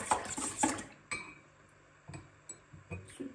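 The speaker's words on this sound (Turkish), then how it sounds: "Şöyle bir karıştırayım." A spoon clinks against a bowl while stirring a yeast and milk mixture, with a few sharp taps and scrapes spaced out over a quiet kitchen background.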